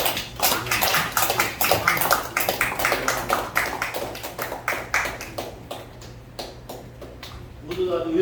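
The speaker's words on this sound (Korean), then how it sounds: "큰 박수 다시 부탁드리겠습니다." An audience at a Korean lecture event applauds to welcome a lawmaker: a dense patter of clapping that swells and fades over several seconds, with a voice speaking over it.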